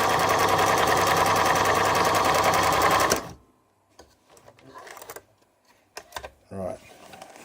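A Singer Model 527 sewing machine stitches rapidly in crazy stitch mode, a loud, close, fast mechanical chatter for about three seconds before stopping, followed by quieter handling clicks and brief speech.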